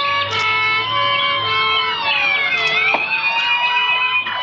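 Several emergency vehicle sirens wail and overlap at once, loud and continuous, in a neighbourhood with a large fire nearby.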